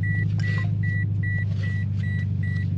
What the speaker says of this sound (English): Subaru and these freaking seatbelt things.